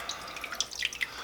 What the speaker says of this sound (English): take that skin out of the water